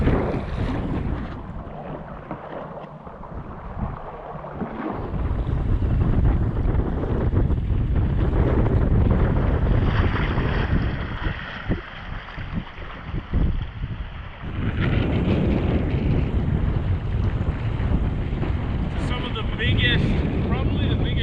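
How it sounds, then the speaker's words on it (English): Strong wind roars and big swells wash around a canoe paddled on the open water of the Kipawa, a steady loud rush of gusts and waves close to the microphone, with a brief voice in the mix. "Probably the biggest waves we've ever paddled in a canoe together."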